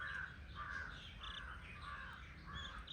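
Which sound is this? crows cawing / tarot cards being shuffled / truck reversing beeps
crows cawing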